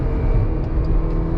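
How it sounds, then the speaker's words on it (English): Engine of a Ferrari GTC4 Lusso T heard from inside the car on downshifts, a loud continuous low rumble that swells slightly, with no voices. "Nice downshifts."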